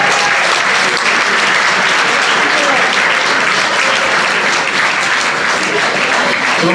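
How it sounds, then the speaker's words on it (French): Sustained, dense audience applause at a season-closing evening event, steady and loud throughout with many hands clapping together and no gaps. "Voilà, et vous pouvez les applaudir."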